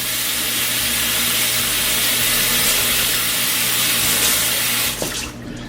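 A kitchen tap runs steadily while hands are washed, a continuous bright hiss of splashing water that cuts off near the end.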